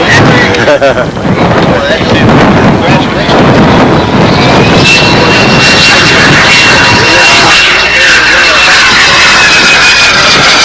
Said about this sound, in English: Different jet engine. Yeah, it sounds more like a whine.